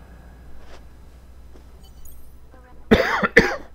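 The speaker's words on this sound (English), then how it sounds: "Pardon me, now I'm coughing and having issues." Two sharp, loud coughs close by near the end, after a stretch of quiet room tone.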